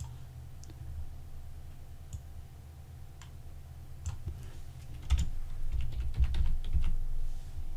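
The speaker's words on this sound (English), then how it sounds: "Type in bikes, hit enter." Typing on a computer keyboard, sparse clicks at first building into a quicker run of keystrokes, close by over a low steady hum, with no talking.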